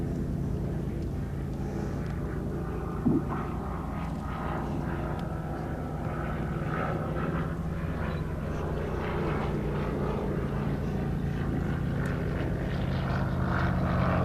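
At the Shuttleworth air show, a vintage propeller aircraft with an engine geared up for faster propeller speed drones steadily and at a distance for the whole stretch, a continuous broad engine rumble with no break.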